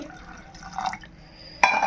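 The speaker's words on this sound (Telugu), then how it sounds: "అలసందలు మునిగే వరకు వాటర్ పోసుకుందామండి" Water trickles and splashes into a vessel of soaked black-eyed peas, with faint pouring at first and a brighter splash near the end, up close.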